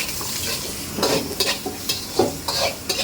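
Food frying and being stirred at a street stall in Macau, a steady sizzle broken by several sharp scraping stirs in a quick irregular rhythm, close and fairly loud with no talk.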